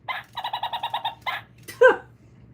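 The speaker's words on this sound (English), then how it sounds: "when she gets really agitated, she'll bark at you, she'll hiss, she'll squawk at you" Agitated pet bird squawking and barking in a rapid series of harsh, repeated calls, then a louder single screech, close and alone.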